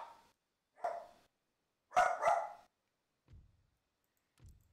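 A dog in a Napoleon: Total War battle mod yips and barks in short, separated bursts, a single one and then a quick double, followed by two soft low thumps in a quiet setting.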